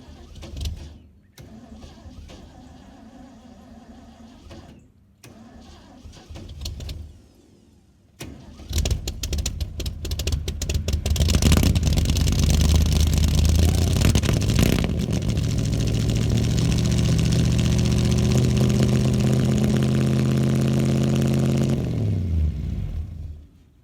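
A 1975 Ford F-100 pickup, abandoned for 17 years, cranks with a few hesitant clicks and turns before catching, then settles into a loud, close, steady idle that winds down and cuts off at the end.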